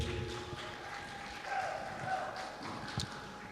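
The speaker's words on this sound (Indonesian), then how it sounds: "Sekali lagi tepuk tangan yang meriah untuk Ummahatul Muttaqin." Applause from an audience at a Ramadan sholawat festival, a steady wash of clapping with crowd noise rising and falling over a few seconds.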